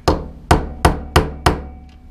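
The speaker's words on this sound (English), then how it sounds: "I'm going to tap it through just so I can get the E-clip back on" Five sharp metallic taps, evenly spaced and ringing briefly, as a socket drives a spare gear through an E36 seat recline mechanism so an E-clip can go back on. The strikes are close and loud, with no talk.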